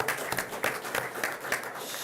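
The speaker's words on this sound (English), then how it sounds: "So let's have a round of applause for Scotty" A school district board meeting audience gives a round of applause, heard as a moderate, fairly distant patter of many hands with a few sharper claps standing out at regular intervals, unaccompanied by speech.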